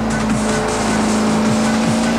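A sports car in a racing video game accelerates flat out, its engine holding a loud, steady high drone with brief tire squeals and skid sounds cutting in several times.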